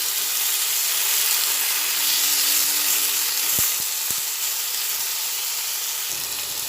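Eggplant with turmeric and salt sizzles loudly in a pan as it is stirred, a close, steady hiss of frying with a few sharp utensil taps partway through and no speech.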